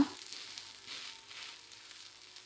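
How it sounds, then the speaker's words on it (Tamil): A rice-free dosa fries in oil on a pan, giving a soft, steady sizzle close by that fades slightly over a couple of seconds, with no talking. "தோசை ஊற்றிட்டு இப்போ எண்ணெய் 2 ஸ்பூன் ஊற்றிக்கலாங்க"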